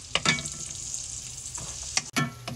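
Minced garlic sautés in melted butter in a pan for spaghetti sauce, a steady close sizzle broken by a few sharp clicks and scrapes of a stirring utensil, with no talking.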